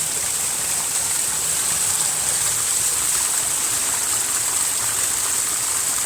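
A forest stream flows in a continuous loud, even rush of water, close by and steady throughout, with no other sounds standing out.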